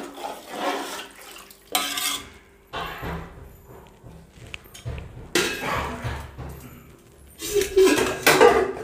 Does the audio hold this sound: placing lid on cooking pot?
yes